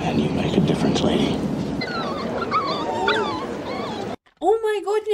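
Puppies whimpering in a 1987 Christmas film, A Hobo's Christmas: high, wavering whines under film dialogue and background sound, then a short gap and a clearer run of rising and falling yelps close by.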